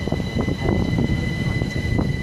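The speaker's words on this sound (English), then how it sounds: "now getting ready to pass by the Great Western Railway service from Oxford and London Paddington" A brief, close, steady rumble of a Great Western Railway train running through Southall on the Great Western Main Line, with a faint high whine above it.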